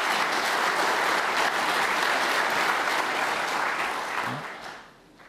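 Sustained applause from a snooker crowd at the Crucible during the World Championship final, steady and full for several seconds before fading out near the end.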